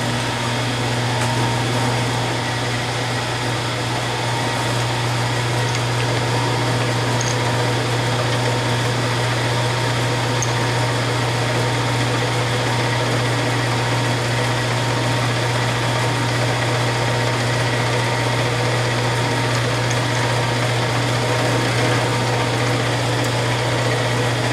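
A milling machine fitted with a 3/4 inch cutter drones steadily and evenly for the whole stretch, with a constant mechanical hum and no talking.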